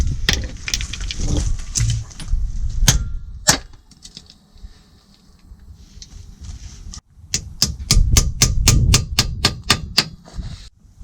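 Steel hammer blows drive a socket onto a seized suspension bolt on an Audi A2, coming in sharp, ringing bursts of rapid strikes with a short quiet gap between them.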